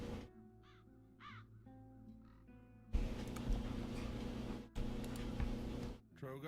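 Crows caw in a game setting, harsh repeated calls over a low hum and ambient music; the scene grows louder and busier midway, with further caws through a dense background.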